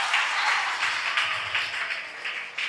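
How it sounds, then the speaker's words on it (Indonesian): Children at a school talk show applaud together, a brief, steady wash of many small hands clapping at moderate volume, continuous and without distinct individual beats. "Adik tepuk tangan adik-adik semuanya."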